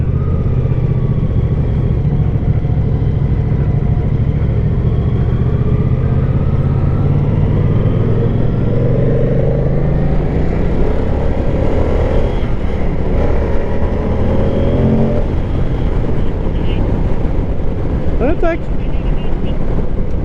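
A 2024 Moto Guzzi Stelvio motorcycle engine hums at low revs while riding, a steady drone under heavy wind rush, with the pitch rising and shifting as it accelerates.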